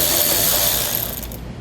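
A ratchet clicks steadily while removing a bumper bolt on a 2016 BMW, a dense, fast mechanical ratcheting heard close up and alone for about a second and a half.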